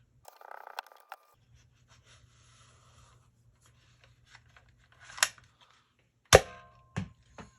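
A modified Nerf Fortnite Super Flare blaster, with a dart stuffed in through the front, fires with a sharp snap. A faint rattle and handling clicks come first, and a few smaller knocks follow.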